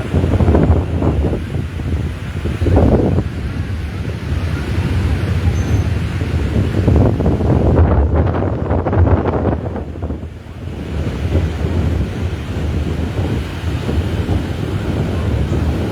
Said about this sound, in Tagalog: Grabe, lakas lang ang alon. Parang nagwawala yung dagat.